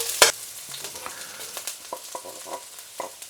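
Garlic cloves, ginger slices and half a red chilli frying in a couple of tablespoons of hot oil in a wok, a steady soft sizzle broken by scattered spatula clinks and one sharp clatter near the start.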